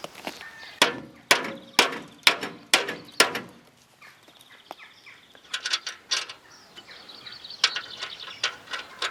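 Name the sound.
hammer tapping metal mower deck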